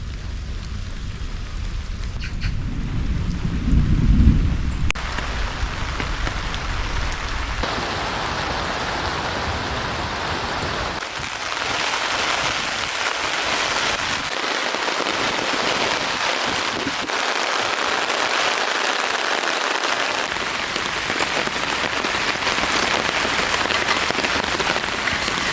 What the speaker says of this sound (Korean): 지금 이제 비가 내리기 시작했습니다.